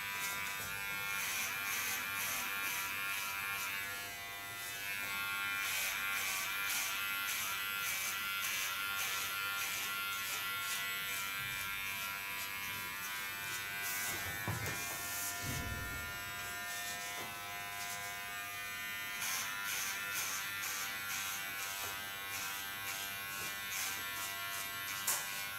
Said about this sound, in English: On the Kione clipper is a ceramic blade, so it doesn't damage the hairs.